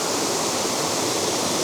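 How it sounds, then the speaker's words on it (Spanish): A waterfall in the autumn Pyrenees mountains roars in a dense, even rush of white water, loud and steady with no pauses and no voices. "esta es la misma cascada, pero al otro lado"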